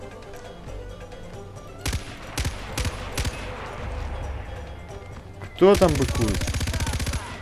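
Machine gun fire in Far Cry 4, ridden atop an elephant: a few scattered loud shots, then a dense rapid burst near the end, with someone talking over the action.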